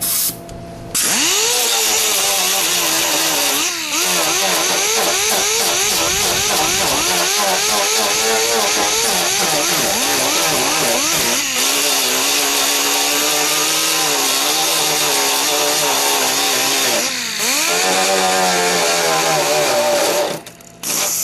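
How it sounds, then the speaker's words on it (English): An air compressor runs loud and close in a home car-painting workspace, a continuous droning motor with shifting pitch and brief dips, running alone with no talk over it. "I have turned the compressor on. It's kind of loud"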